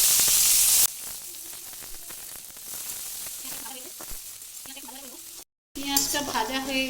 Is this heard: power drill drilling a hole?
no